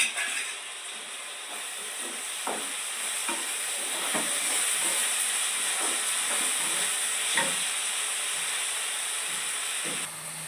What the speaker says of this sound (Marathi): तर आता आपण टोमॅटो छान तेल सुटेपर्यंत भाजून घ्यायचं आहे आपल्याला